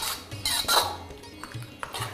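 Dry chilli chicken stirred with a metal spatula in a pan over high flame, repeated scraping clinks and knocks against the pan at an uneven pace, close up, with no voices.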